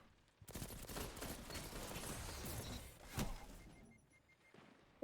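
A rapid burst of gunfire in Destiny 2 Shadowkeep, a dense rattling volley of shots lasting about three seconds with one heavier blast near the end, then quiet and a sudden loud hit at the very end.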